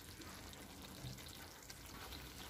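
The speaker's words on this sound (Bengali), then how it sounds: "আলুগুলি দিয়ে দিয়েছি, এখন ভালো করে নেড়ে মিশিয়ে 5 মিনিট কষিয়ে নেব আলুগুলি।" Chicken curry with potatoes frying in a pan while being stirred, a steady, dense sizzle that stays even and fairly quiet throughout, without any speech.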